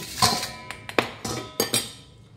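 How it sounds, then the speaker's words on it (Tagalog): Mud crabs are dropped into a metal cooking pot with a handful of hard clanks and knocks, several distinct hits close together over about two seconds, close and clear. "Lagyan na natin yung alimango."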